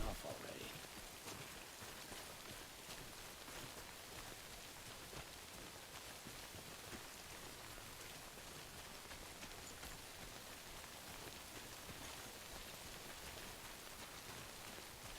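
Timefall rain in the video game Death Stranding, a steady, even hiss of rainfall that stays constant throughout at low level, with no distinct drops or thunder standing out.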